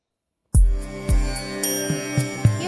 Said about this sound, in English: So Vande Mataram is our national song.